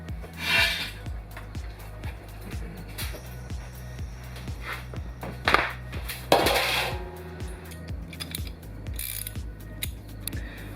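Oil drain plug being loosened under a 2011 Subaru Forester with a 2.5-liter four-cylinder engine: a rapid series of close metallic ratchet clicks, repeated in short bursts, with scraping and tool handling in between.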